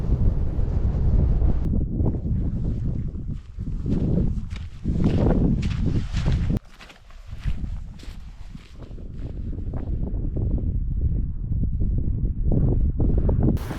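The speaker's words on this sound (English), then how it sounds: "I found somewhere to shelter, hide from the wind." Winter wind blows hard across an exposed hillside near the Fannichs in the northern highlands, buffeting the microphone with loud, gusty rumbling that surges and eases throughout, with no voices.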